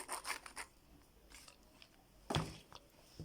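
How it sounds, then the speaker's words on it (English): Sandpaper rubs against the edges of handmade women's sandals in a few short, faint scratching strokes close by, with brief pauses between them. "I'm just going to use my sandpaper to grind the edges"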